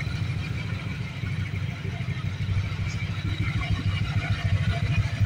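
A Honda Click 125 scooter with a newly fitted chrome-bore black cylinder and stock air filter runs steadily at idle, making a continuous, fairly quiet low engine drone with a light mechanical clatter and no knocking.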